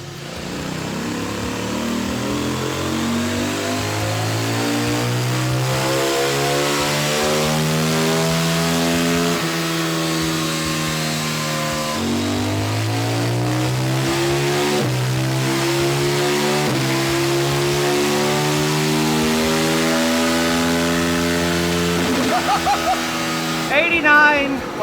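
CFMoto 800NK motorcycle engine revving on a dyno, loud rising sweeps through the rev range with repeated climbs and drops in pitch, ending with a few sharp blips.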